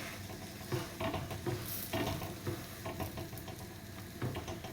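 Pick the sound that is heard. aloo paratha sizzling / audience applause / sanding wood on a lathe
aloo paratha sizzling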